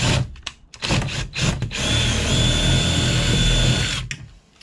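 A power drill bores a hole through the bumper of a VW T5 van, starting with a few short stuttering bursts and then running loud and steady for a couple of seconds before winding down.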